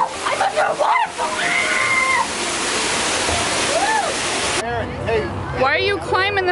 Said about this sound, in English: I'm under a waterfall.